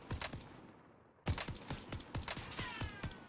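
Gunfire from a gun in a first-person shooter video game, a run of sharp shots at a steady, slightly uneven pace, close and loud; a brief quieter stretch comes before a fresh, stronger volley resumes.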